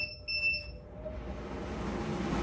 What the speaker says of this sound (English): You're gonna hear 2 beeps.